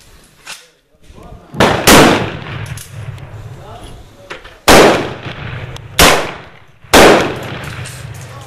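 Four loud, sharp gunshots from a .44 Pietta 1851 Navy cap and ball revolver fired outdoors, each a sudden crack with a decaying tail, spaced a few seconds apart, with a faint voice in the background.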